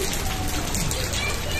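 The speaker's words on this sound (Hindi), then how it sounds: "तूफान और आंधी मिक्स होकर बड़ी टाइट वाली बारिश होना स्टार्ट हो गई है।" Heavy rain lashes down in a storm, a dense, unbroken hiss of drops striking surfaces, loud and close throughout.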